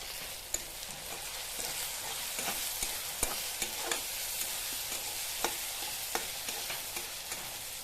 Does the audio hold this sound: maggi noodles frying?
yes